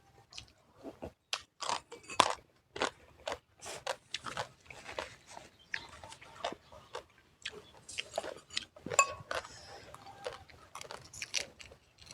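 Crispy fried mackerel crunches loudly in close, irregular bites amid quiet pauses, with no talking, a meal also served with butterfly-pea fried egg, crispy fried frog and shrimp-paste chili dip.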